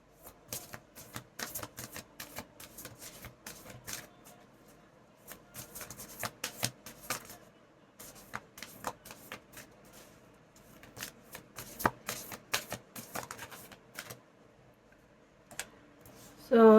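Cards riffled and drawn one by one in a tarot-style reading, with quiet close flicks and snaps that come in uneven bursts and pauses.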